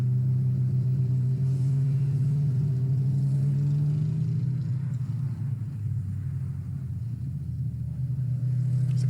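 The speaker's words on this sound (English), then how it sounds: "As the cars head back into the pits, Paul Rose ahead of John Wolfett" Racing cars at the Oulton Park circuit, from the BARC NW CNC Heads Championship, roll back into the pits with a steady, loud, low engine rumble that stays fairly constant throughout, with no talking.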